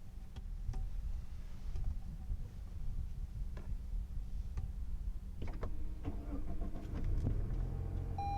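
A Mazda CX-50 or Toyota RAV4 crossover starts up inside the cabin. Low engine rumble runs steadily under faint clicks and ticks, with a few sharper mechanical clunks near the end.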